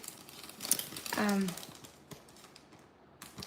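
A clear plastic envelope crinkles as a small handmade gift slips inside, a brief crackling rustle close by and fairly quiet amid faint handling noise.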